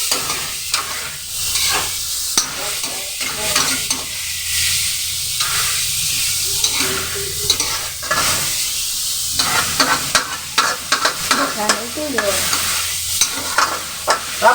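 Pork sizzling and frying in a pan for Baguio beans with pork, steady loud sizzle with stirring scrapes and clatter throughout, no voices.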